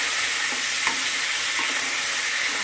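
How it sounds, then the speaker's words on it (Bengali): Marinated chicken pieces frying lightly in oil for a Bengali chicken stew give a loud, dense, unbroken sizzle up close, with a few faint stirring knocks and no talking. "মাংসটাকে আমি একটু হালকা একটু ভেজে নেব"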